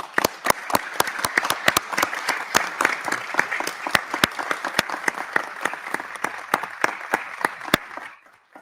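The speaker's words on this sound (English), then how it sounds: "give her a round of applause" An audience in a congressional hearing room applauds for a departing member, a crisp round of many hands with distinct sharp claps near the microphone, sustained for several seconds before thinning out at the end.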